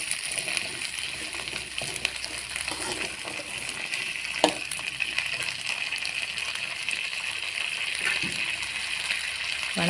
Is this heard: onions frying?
yes